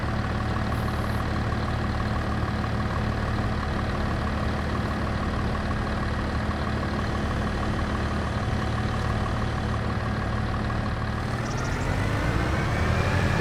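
Tractor engine in Farming Simulator 25, a steady droning idle with a low rumble that holds evenly throughout, then rises slightly near the end as the revs shift.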